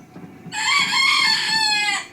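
A chicken in the Resident Evil 4 video game lets out one loud, drawn-out squawking cluck that begins abruptly and lasts over a second and a half, following a faint low murmur.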